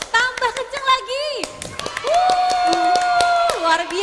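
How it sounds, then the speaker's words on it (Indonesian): Children clap their hands at an online Sunday school service, a scattering of sharp claps running under continuous sung and spoken voices. "Ayo, kita tepuk tangan dulu yuk. Lebih kenceng lagi."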